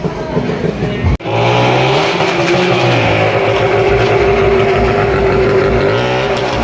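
A motorcycle circles inside a well of death at a village fair, its engine roaring loud and continuous with rising and falling pitch as it laps the wooden wall, after a brief sharp dropout near the start.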